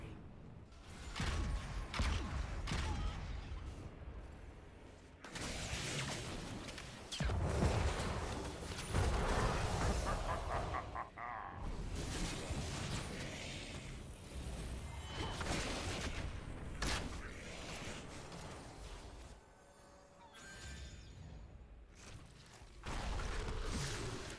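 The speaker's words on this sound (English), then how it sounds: "Payload firing." A payload fires amid a busy Heroes of the Storm team fight: dense layered booms, gunfire bursts, whooshes and mechanical clanks pile up loudly for over twenty seconds.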